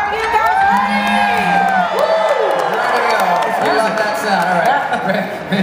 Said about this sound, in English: crowd fired up and ready for some action